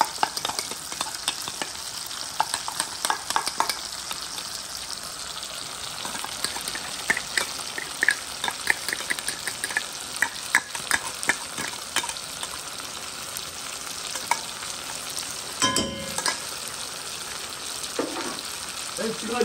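Chili, ginger and salt are stirred in a sizzling frying pan, with scraping strokes over a constant hiss of frying and a brief splash of water near the end; a voice speaks briefly.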